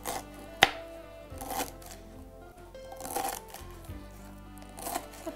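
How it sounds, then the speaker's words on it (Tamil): A knife chops through firm adamant creeper stems on a board in a few separate crisp strokes, close and fairly quiet. "நம்ம இந்த பிரண்டைய சிறு சிறு துண்டுகளாக பொடி பொடியாக நறுக்கிக்கணும்"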